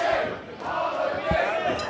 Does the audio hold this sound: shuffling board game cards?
no